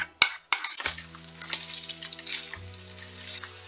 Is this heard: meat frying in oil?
yes